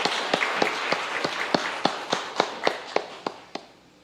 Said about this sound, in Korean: 우리 박수 한 번 더 쳐드립니다